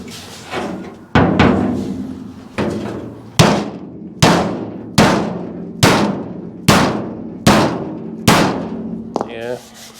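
Metal body panel of a 1955 Chevy Nomad struck in a dent repair attempt, about nine loud ringing knocks at a fairly even pace, each fading away before the next.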